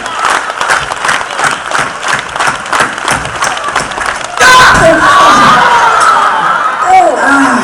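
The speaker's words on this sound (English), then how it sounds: "Everybody, 2 hands up in the air. Let's start clapping." A crowd claps in rhythm, rapid regular beats for several seconds, then bursts into loud sustained cheering and shouting with applause, voices calling over the noise.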